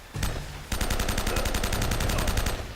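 Gunfire in Uncharted 1: a few sharp shots, then a rapid, steady burst of automatic fire that keeps going, loud and close, with no talking over it.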